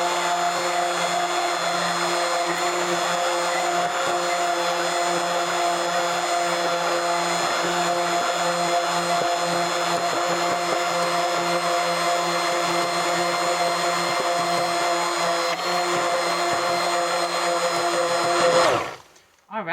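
A handheld mixer blends matcha gel masque with MSM powder in a beaker, producing a steady loud motor whine throughout that cuts off abruptly near the end.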